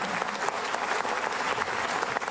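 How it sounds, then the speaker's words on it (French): Audience applause at a French stand-up comedy show, a steady dense wash of clapping from a large crowd throughout. "Merci beaucoup pour ces applaudissements de ce passage."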